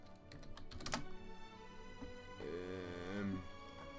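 Typing on a computer keyboard: a quick burst of close, light key clicks followed by a faint low hum, no voices.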